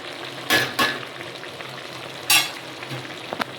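Spinach palya sizzles steadily in a pan as freshly grated coconut is added, with a few sharp scraping stirs of the spatula standing out over the constant frying hiss.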